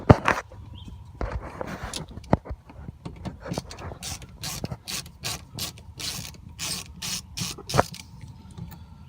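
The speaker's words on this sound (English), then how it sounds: "First thing we're going to do is take out that screw, Phillips, right there in the back corner." A Phillips screw being turned out of the inside door handle of a 2000 Honda CR-V with a ratcheting driver, a run of close, crisp ratchet clicks speeding into a fast rhythmic clatter.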